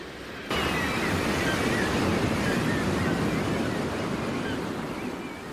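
Surf crashes against sea cliffs in Shetland, a dense, roaring wash that swells in abruptly and stays loud and steady, with wind buffeting the microphone.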